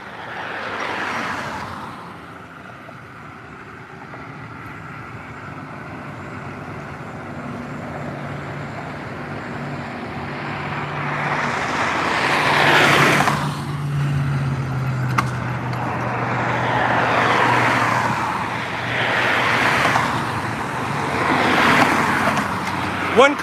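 Freeway traffic on Interstate 45, a steady roadway roar with repeated vehicles swelling past, including a low engine drone partway through, continuous and moderately loud.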